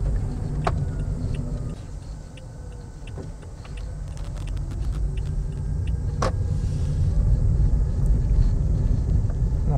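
A quiet, low road rumble from inside a hybrid car running on its electric motor alone, engine off, downhill in eco mode, with faint whine and occasional small clicks, steady throughout.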